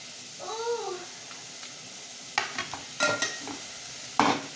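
Moth beans frying in oil get stirred, with a brief high wavering cry early on, then a low sizzle broken by several loud close spoon scrapes against the pan.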